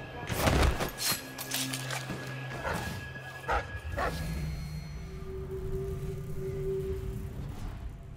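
A dog in the video game Dishonored: Death of the Outsider barks several times in quick sharp bursts, then whimpers and yips more faintly over steady game ambience and music tones.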